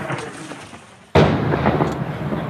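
An artillery shell explodes during the shelling of a town near Lysychansk, Ukraine. A low rumbling background is broken by a sudden loud blast, followed by a sustained rolling roar.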